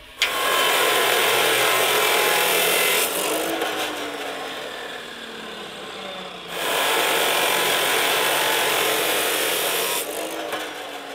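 A power tool cutting steel tabs for a solar panel mount on a shipping container at an off-grid cabin, loud, continuous and harsh, with two long cuts broken by a brief dip and no talking.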